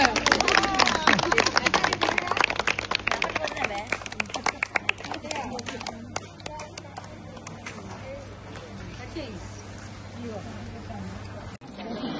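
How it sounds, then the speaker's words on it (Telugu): A group of people clap rapidly and loudly together, a dense burst of applause that thins out and fades after about five seconds into scattered claps, a faint murmur and a low hum. "గట్టి కొట్టండి చప్పట్లు."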